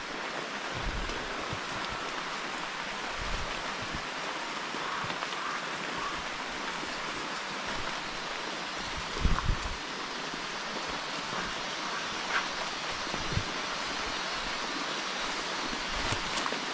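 Heavy rain pours in a forest during a camping trip, a dense continuous patter with occasional louder drops hitting nearby surfaces, steady and loud throughout.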